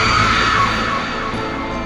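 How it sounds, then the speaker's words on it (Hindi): A loud, heart-wrenching scream echoes from inside a room, a single sustained shrill cry that is strong at the start and then eases slightly while holding on. "अंदर से बस एक दिल दहला देने वाली चीख गूंजी।"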